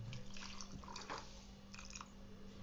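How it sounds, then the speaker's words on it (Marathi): Water poured into a mixer jar while preparing a batter, a soft splashing and trickling stream with a few brighter splashes, faint and close. "यात पाणी घालायचं"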